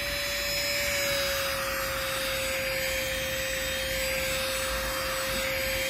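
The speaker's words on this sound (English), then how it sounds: "I'm going to use it to demonstrate how good this vacuum cleaner is." A Chuboor handheld car vacuum cleaner runs on an old couch covered in pet fur, producing a loud, constant motor whine with a steady high tone and a rough rubbing hiss as it works over the fabric.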